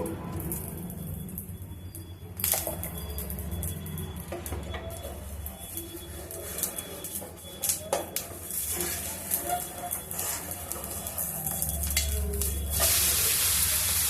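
Egg omelette frying in oil in a covered pan, a soft steady sizzle with scattered crackles and light pan clatter throughout, swelling louder near the end.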